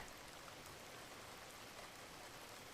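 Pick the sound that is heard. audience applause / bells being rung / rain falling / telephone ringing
rain falling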